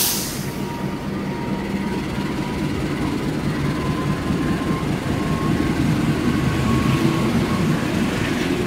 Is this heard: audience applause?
no